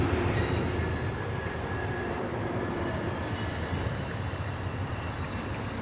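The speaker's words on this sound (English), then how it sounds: "That would be the train, the Amtrak over there." An Amtrak passenger train rolls past at a distance, a steady broadband rumble of wheels on rail with faint metallic squeal, holding at a constant level throughout with no talking.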